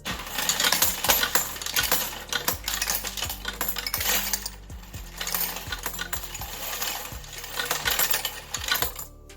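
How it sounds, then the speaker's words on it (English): A Go Plus electric coin sorter and counter running through dimes: a continuous rattling clatter of coins dropping, with evenly spaced low thumps from the machine throughout. "I'm going to let it continue counting until it's got a full roll of dimes"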